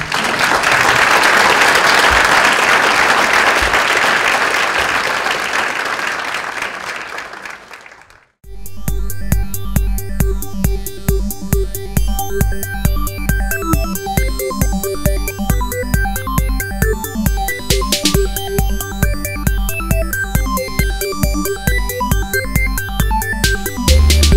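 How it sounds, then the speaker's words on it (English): A summit audience gives a round of applause, a dense, loud wash of clapping for about eight seconds that cuts off abruptly, followed by rhythmic music. "Let's give a round of applause for everyone"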